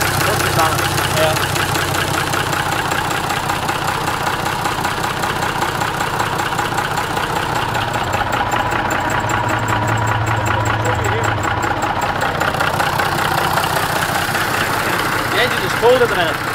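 A cold Gardner 6LW diesel engine idles with a steady, knocking rumble that continues without pause throughout, close and fairly loud.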